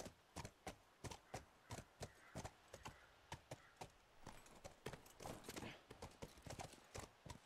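Horse hooves clip-clop at a steady walking rhythm in The Last of Us Remastered, many sharp evenly spaced strikes on hard ground, fairly close and with no talking over them.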